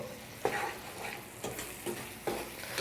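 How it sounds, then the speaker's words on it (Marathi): A spatula stirs fried eggs into a mashed brinjal and tomato bharit in a pan: a few scraping strokes at irregular intervals over a constant, gentle sizzle, close up with no talking. "आता हे वांगा आणि टोमॅटोचं जे भरीत आपण केलं आहे त्याच्यात टाकून घ्यायचं, सगळं मिक्स करून घेऊ प्रॉपर"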